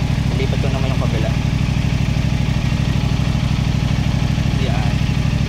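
A motorcycle engine idles steadily and close by with an even, chugging low throb, its heat used to dry socks while camping. Brief faint voices surface over the running engine.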